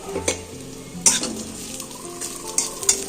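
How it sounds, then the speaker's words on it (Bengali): Small shrimp sizzle in a pan while a utensil stirs them, with sharp clinks and scrapes breaking through the frying hiss. "চিংড়ি মাছ ভাজা"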